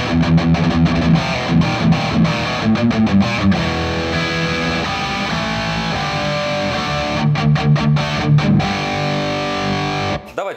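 A high-gain guitar amplifier's own distortion, no pedal: heavily distorted electric guitar plays chugging chords and sustained notes, loud and saturated, with short palm-muted stops and no talking.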